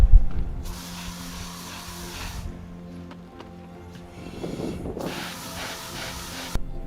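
Water spray hisses steadily while rinsing soap off firefighter turnout gear, in two separate bursts a few seconds apart over a low background hum.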